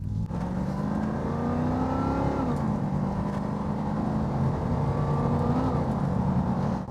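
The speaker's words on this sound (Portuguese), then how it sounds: "vamos ouvir um pouco mais do som desse motor de novo" A 1988 Pontiac Firebird engine roars steadily at high revs, its pitch climbing and dipping slightly as it pulls hard at full throttle, loud and close with no talking.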